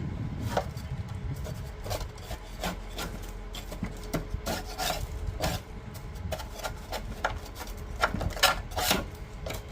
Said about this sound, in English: what works best to clean this up is just a putty knife